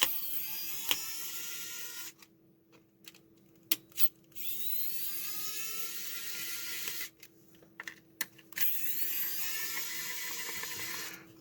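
Small screws being backed out of a digital scale's plastic housing during a teardown, a close whirring, ratcheting mechanical sound that runs in bursts with short pauses and a few sharp clicks between, no talking.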